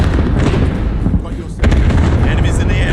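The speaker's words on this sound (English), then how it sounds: "Enemy cluster strike" Cluster strike explosions pound away in Call of Duty: Modern Warfare, a dense, loud, continuous roar of overlapping blasts with a short lull midway before the barrage surges back.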